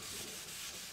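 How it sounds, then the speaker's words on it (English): Hand sanding of freshly applied car paint with sandpaper, a steady back-and-forth rubbing hiss that runs continuously and close for about a second with no voices. "and I'm just gonna sand it."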